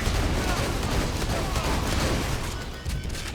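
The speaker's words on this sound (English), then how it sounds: "Some explosions." Dense, continuous explosions and gunfire blast nonstop in Borderlands 2 during a level 72 Krieg shotgun build, a loud, crackling roar with no pauses and faint voices buried underneath.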